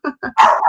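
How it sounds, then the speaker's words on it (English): A dog barks indoors close by, two short yips followed by a longer, louder bark, sharp and unaccompanied by speech. "I don't know why they're barking."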